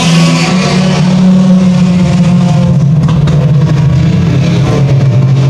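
Sport Compact race cars roar around the Evans Mills Raceway Park track, a loud continuous engine drone with a steady low hum and shifting revs, dense and close throughout.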